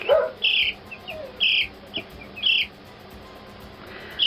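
Young chicks, one and two weeks old, give short high peeping chirps in separate bursts about once a second, close and fairly clear over a quiet background.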